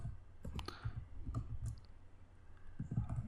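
Computer keyboard typing while coding an Android app: a series of soft, close clicks in irregular bursts, heavier at the start and near the end, with no voices.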